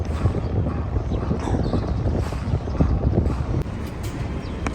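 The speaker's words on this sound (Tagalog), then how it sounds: "Medyo mahangin." Wind buffets the microphone outdoors in Taiwan, a loud continuous low rumble with gusting swells and no clear speech.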